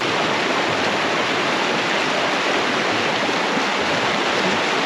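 Steady rushing water from Kurudere waterfall and stream in Sakarya, Turkey, a dense continuous roar filling the scene with no voices.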